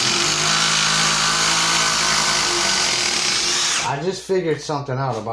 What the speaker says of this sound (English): And now that I drove the screws a few times, it's driving them no problem.